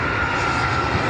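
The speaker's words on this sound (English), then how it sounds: "Planes are coming and coming." Aircraft engine roar from a plane passing at an air show, a loud, steady, close drone with a sustained tonal hum throughout and no voices.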